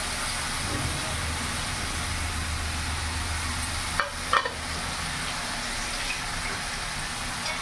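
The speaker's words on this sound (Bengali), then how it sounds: "এরই মধ্যে লোটে মাছে যেটা মশলা মাখিয়ে রেখেছিলাম পুরোটা দিয়ে দেবো" Marinated loitta fish goes into a pan of frying onion and tomato, and a loud, steady sizzle runs throughout, broken by a couple of brief scrapes and clatters from stirring.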